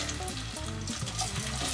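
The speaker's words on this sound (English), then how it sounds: "the onion is frying already" Chopped onion sizzles steadily in hot soybean oil in a cooking pot, a dense close crackling hiss with no talking.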